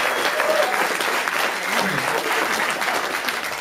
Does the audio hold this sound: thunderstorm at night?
no